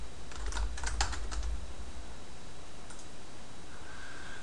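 A first and last name being typed on a computer keyboard: a quick run of close key clicks for about a second and a half, then near silence with faint room hiss.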